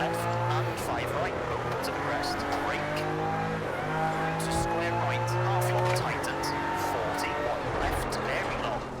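Tyres scrabbling on the road in a racing video game, gaining and losing traction, with a steady engine drone that shifts pitch and scattered squeals, all continuous and fairly loud under a voice talking.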